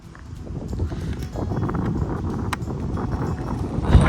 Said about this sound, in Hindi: तेज हवा।